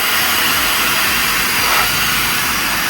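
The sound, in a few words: handheld blower (Wolfbox MegaFlow 200) blasting air filter clean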